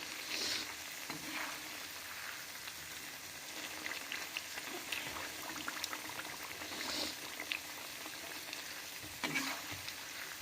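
Raw papaya chanachur pieces fry in oil over a medium flame, a soft, steady bubbling sizzle with occasional brighter crackles and a few faint stirring touches throughout.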